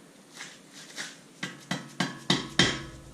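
A series of sharp metallic taps that grow louder, about seven hammer strikes driving a 19 mm socket onto a strut stud of a 2013 Dodge Dart, in an uneven rhythm, close by.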